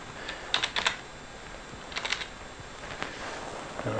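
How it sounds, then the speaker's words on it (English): Typing on a computer keyboard, short clustered bursts of key clicks with pauses between them, close and fairly quiet against a faint steady hum, no talk. "So in here I'm going to type some bytes."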